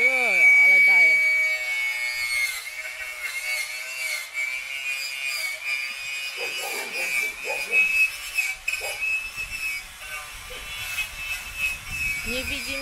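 Someone works a grinder on an Ursus C-360 tractor at a distance, giving a steady high-pitched whine that runs throughout while people talk nearby.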